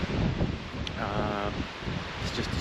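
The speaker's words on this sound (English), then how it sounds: "It's quite breezy here, and I think we're in for a bit of weather." Wind gusts buffet the microphone beside the River Tay in Dundee, a steady loud rushing roar with a brief faint whistle-like tone in the middle and no clear talking.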